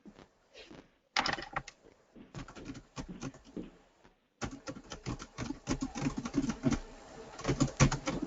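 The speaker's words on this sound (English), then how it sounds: "Someone's typing." Someone types on a computer keyboard in quick, uneven bursts of close clicking keystrokes, broken by short pauses and then growing denser toward the end.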